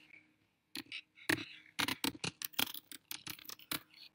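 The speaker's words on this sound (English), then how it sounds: "I'm still typing because, again, I type like a T-Rex." Keyboard keys typed slowly in a hunt-and-peck manner, giving uneven bursts of close, sharp clicks and taps after a short quiet start, with no talking.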